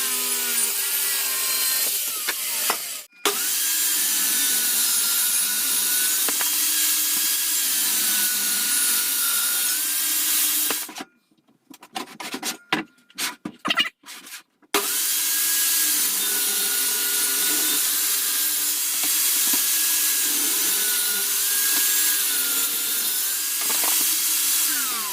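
Wooden dressing table being sanded, a steady abrasive rasping that runs continuously, breaks off briefly in choppy bursts midway, then resumes at a constant level.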